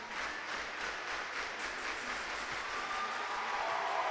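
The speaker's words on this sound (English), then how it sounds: "This crowd is going insane. I don't think I've ever seen this before. They really want their team to win." A basketball game crowd cheers and claps loudly in a gym, a dense, steady roar of applause with no break.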